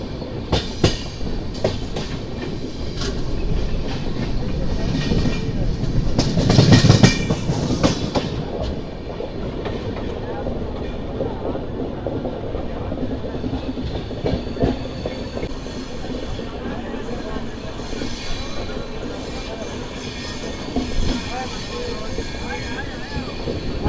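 Bokaro Express running through a curve, a loud steady rolling rumble with clickety-clack and faint wheel squeal, heard from on board and continuing for the whole stretch.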